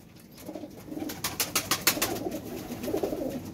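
Pet pigeons cooing repeatedly during a courtship display, a male puffing up for its female; soft throaty coos pulse in an irregular rhythm, close and moderately loud, with no talk over them.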